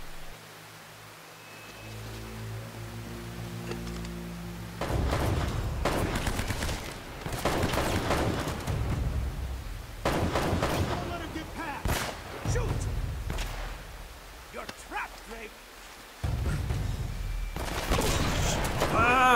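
Bursts of gunfire in the video game Uncharted: Drake's Fortune, several loud volleys separated by short pauses, with a player talking over parts of it.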